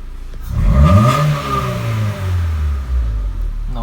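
A 1999 Honda Acura engine, running again after a throttle position sensor fix, revs up sharply and loud close by, then settles into a steady hum.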